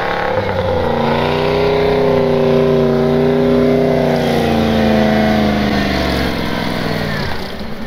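A Toyota stuck on a snowy snowmobile trail revs hard as its wheels spin, the loud, close engine droning steadily for several seconds with a wavering, rising and falling pitch and no voices over it.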